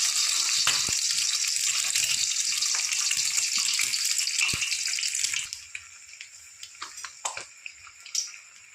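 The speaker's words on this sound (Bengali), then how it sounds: "তেল গরম হয়ে গেছে এবার এক এক করে ডিমগুলো আমি ভেজে নেব" Eggs fry one by one in hot oil in a pan, a loud close crackling sizzle that eases into quieter spitting and pops partway through, broken by a few utensil taps, with no voices.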